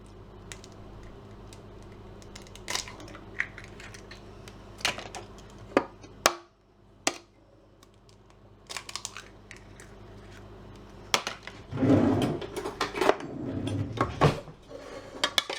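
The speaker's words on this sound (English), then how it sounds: "Right, so I'm just going to beat the eggs first." Eggs are beaten in a jug with a utensil, giving quick clinking taps against the side, sparse at first, then a busier, louder flurry of scraping and knocking near the end.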